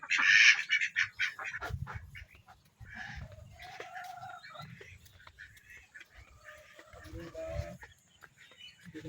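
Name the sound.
ducks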